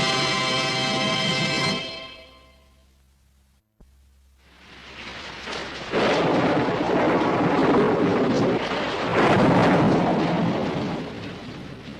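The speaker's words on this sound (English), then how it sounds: "A stormy night on the Texas plains." Thunder rolls through a stormy night on the Texas plains near Fort Clark, a loud broadband rumble and rush that drops away briefly, then swells back into a sustained, heavy roar with surging peaks.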